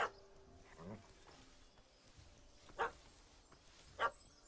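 A dog in the video game The Witcher 3 gives a few short, sharp barks spaced apart over a quiet background, fairly close and moderately loud, with some faint whimpering sounds early on.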